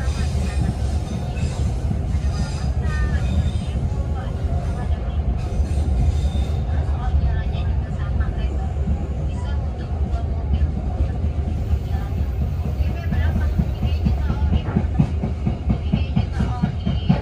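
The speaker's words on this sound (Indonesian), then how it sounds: "Perjalanan kereta api komuter lain Merak atau lokal Merak ini sudah tiba di stasiun tujuan akhir, yaitu stasiun Merak ya." A local commuter train on the Jakarta–Merak line pulls into its final stop at Merak station, giving a continuous loud low rumble of rolling wagons with faint wheel squeals and clatter throughout.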